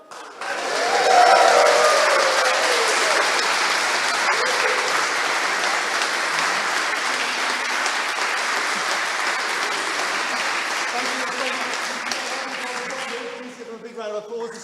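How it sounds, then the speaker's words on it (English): An audience claps and cheers for the London Games Chorus at an Erev Shabbat service, with sustained loud applause that fills the room and tapers off near the end as a voice begins. "Please give them a big round of applause."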